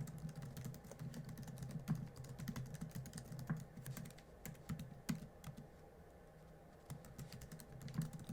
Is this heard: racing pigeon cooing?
no